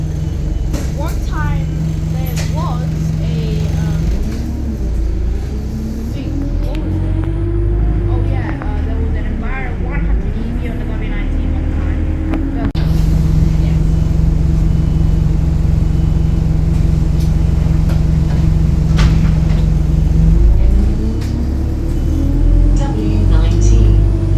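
A London W19 bus from Walthamstow Avenue garage rumbles along, its engine droning and rising in pitch as it pulls away, then settling, with the cabin noise loud and close and occasional talk underneath.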